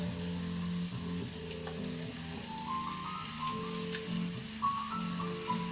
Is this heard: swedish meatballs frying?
yes